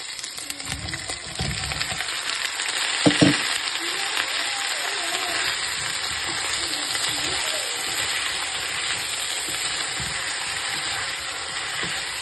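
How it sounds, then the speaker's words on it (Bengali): Cauliflower and potatoes fry in a pan with a steady, close sizzle that runs throughout, broken by a few light clinks and stirring knocks. "ফুলকপিগুলোকে আমি এরকম আলুর সাথে একটু ফ্রাই করে নেব প্রায় 2 মিনিট মতন"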